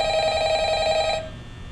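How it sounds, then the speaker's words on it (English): Telephone in the Five Nights at Freddy's video game ringing with a steady electronic bell tone that rings loud and continuous for about a second before cutting off, leaving a low background hum. "I was setting up my workstation until I hear the phone ring."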